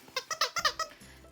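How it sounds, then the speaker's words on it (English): A squeaky fish-shaped dog toy squeaks six times in quick rhythmic bursts, close and clear, with a brief quiet rustle afterward. "First, this fish, she really likes it. It squeaks."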